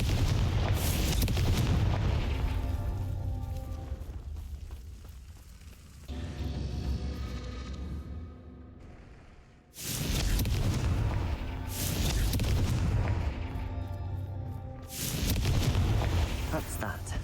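Loud booming blasts from the Confringo blasting curse in the Hogwarts Legacy video game, several heavy explosive bursts in succession with a lull in between, and a voice talking over the action.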